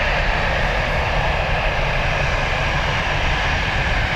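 Aer Lingus jet departing Dublin Airport, a loud, continuous broadband engine roar that stays steady and close for the whole stretch, with no speech.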